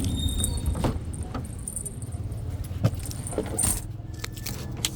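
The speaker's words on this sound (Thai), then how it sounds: "สียบกุญแจนะครับ บิดออน รถสตาร์ท" Car keys jangle and click as they go into a Mazda ignition, light metallic rattles close up over a low hum.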